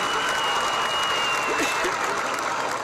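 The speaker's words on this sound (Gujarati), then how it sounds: "એકવાર જોરદાર તાળીઓ પાડી એમનું અભિવાદન કરીશું" Loud, steady applause from a school audience at a Manek Jayanti celebration, honouring a donor, with clapping filling the whole stretch and crowd noise beneath.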